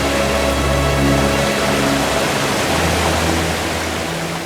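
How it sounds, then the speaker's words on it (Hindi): A waterfall near Rishikesh, heard as a steady, loud, broadband rushing roar that fills the whole clip with no voices. "तो झरना देख रहे हैं ना?"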